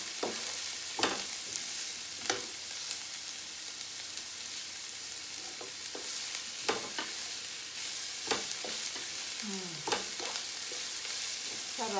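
Banana heart sautéing in a pan for pasta, a constant sizzle broken up by sharp scrapes and clacks from stirring at uneven intervals, close by with no talking.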